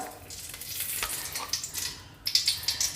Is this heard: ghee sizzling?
yes